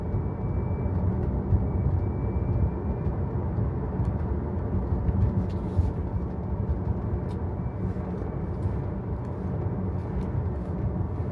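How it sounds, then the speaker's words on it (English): Steady cabin drone inside a 2024 Tesla Model 3 Performance on the move, a continuous low road-and-wind rumble with faint tyre hiss and a thin whine, no talking. "take that interior sound in"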